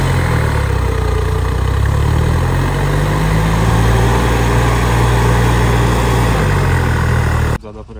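Deutz-Fahr 70 hp tractor engine idling, a loud, continuous low throb held steady close by for about seven seconds before it cuts off.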